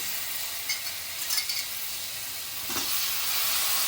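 Coconut, drumsticks and potato pieces frying in a pan for a Ganesh Chaturthi festive thali, a steady soft sizzle with brief stirring scrapes, close and quiet, no talk.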